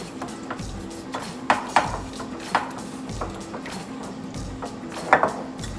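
A metal whisk beats ingredients for a kale salad with chicken in a bowl, giving sharp repeated clinks and scrapes at an uneven pace, close and fairly loud, with no voices.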